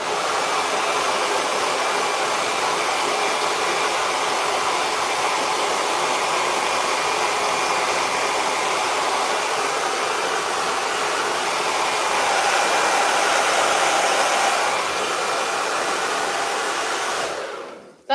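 A hair dryer blows continuously on freshly painted plastic legs, a loud, even close-up whoosh that holds steady throughout and cuts off abruptly at the end.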